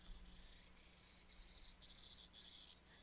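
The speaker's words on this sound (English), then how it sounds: "Damn cicadas won't shut up" Cicadas on a hot evening make a faint, high, steady buzz broken into regular pulses with short gaps, distant and alone.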